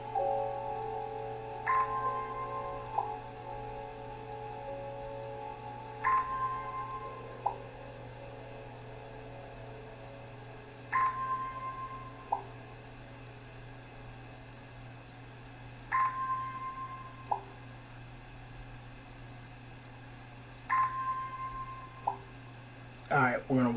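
Plants being watered in the video game Strange Horticulture: short bright trickling tones repeat about every five seconds over a steady low hum, with a brief burst at the end.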